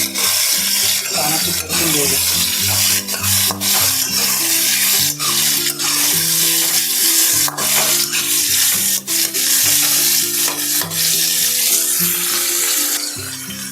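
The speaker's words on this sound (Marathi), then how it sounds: "फ्राय करूया" Bitter gourd sizzles steadily in a pan, with repeated scraping and clinking of a spatula, while tonal background music plays throughout.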